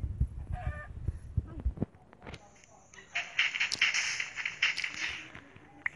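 A chicken in Minecraft Pocket Edition clucks a few times over ambient game sounds, moderately loud, while a player talks quietly in the background.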